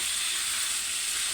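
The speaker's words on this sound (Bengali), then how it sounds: "এর সঙ্গে দেখতেই পাচ্ছি আমি আলুটাকে এখন ভাজতে বসিয়ে দিয়েছি।" Potatoes sizzle in a pan with ginger paste, a steady close hiss of frying oil that holds evenly throughout without pause.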